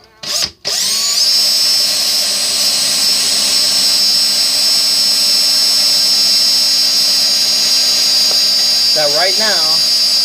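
A screwdriver chucked in a power drill spins to wind Clapton vaping coil wire off a spool, a steady high motor whine that runs almost unbroken after a short voiced start and a brief stutter near the beginning.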